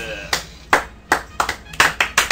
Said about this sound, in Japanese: はい拍手